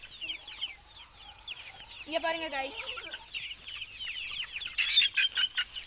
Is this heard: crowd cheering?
no